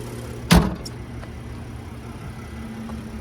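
A 2023 Nissan Frontier SV's 3.8-liter naturally aspirated V6 idles with a low, steady hum, broken near the start by one sharp, loud thump and followed by a few faint clicks.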